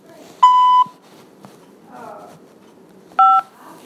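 Two bright phone keypad tones beep, one near the start and another near the end, with a faint voice murmuring quietly in between, on a prison collect call line.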